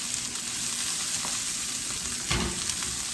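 Whole cloves, cardamom seeds, cinnamon and turmeric frying in a pan give a dense, loud sizzle close by, with one brief scrape of stirring near the end.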